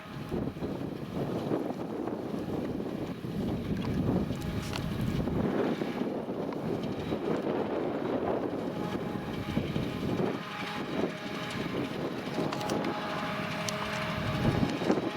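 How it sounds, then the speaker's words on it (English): A Claas 860 forage harvester drives down a field with its machinery running, producing a loud, continuous mechanical roar and rushing whine with wind buffeting the microphone and no talking. "I will drive down with my harvester turned on to pick up the scraps off the ground"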